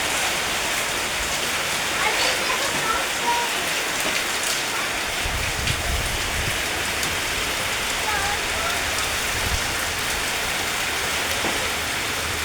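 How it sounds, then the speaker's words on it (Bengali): Heavy rain pours steadily, a dense continuous hiss of drops hitting surfaces throughout, with no clear gaps; faint voices may surface briefly beneath the downpour. "চারিদিকে বৃষ্টি বৃষ্টি।"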